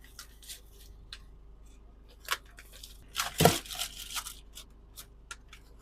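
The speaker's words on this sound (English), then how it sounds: "I will cut this out of the plastic." Scissors cut an item out of plastic packaging, quiet close snips and crinkles scattered over several seconds, with one louder burst of crackling plastic and cutting in the middle.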